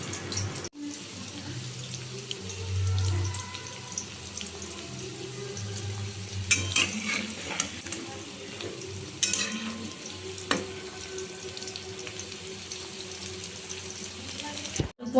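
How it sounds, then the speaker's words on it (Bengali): Chicken pakoras sizzle as they deep-fry in oil, a steady bubbling hiss broken by louder bursts of crackle and occasional clinks of a utensil, with a voice speaking at times. "এরকম করে আস্তে আস্তে করে আমি সব পকোড়াগুলো ভেজে নেব"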